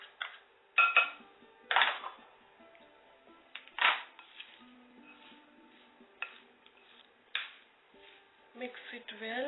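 A sabudana vada mixture with roasted peanut powder and arrowroot flour is mixed by hand in a bowl. Soft irregular clinks, scrapes and squelches come close up, scattered across the clip, with spoken narration over them.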